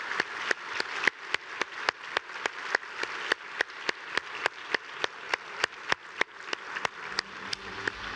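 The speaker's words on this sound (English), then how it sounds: "One final round of applause for everybody." Slow, regular clapping, sharp single claps spaced evenly about every third of a second, fills the room at a track and field presentation dinner, with faint voices and movement creeping in near the end.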